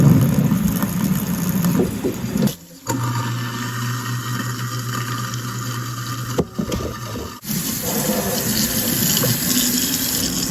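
Water runs from a kitchen sink tap during cleaning, a steady hiss and splash broken by short pauses where the flow stops, with faint household sounds around it.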